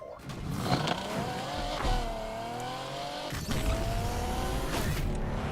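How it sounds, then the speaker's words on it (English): A car engine in Need for Speed Unbound revs and sputters, pitch rising and falling as it accelerates, with brief tire squeals. "This car sounds like it's farting."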